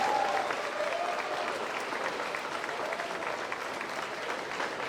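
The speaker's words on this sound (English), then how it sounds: "So if we give them a round of applause." A crowd of people applauds the event committee at a school awards ceremony, a steady, even clapping that runs throughout, heard from the middle of the room with no voices over it.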